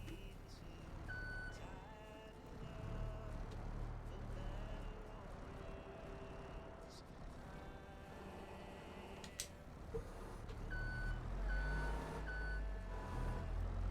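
A forklift in the video game Farming Simulator 22 gives off faint reversing beeps, short evenly spaced tones in two brief runs over a low, steady engine hum.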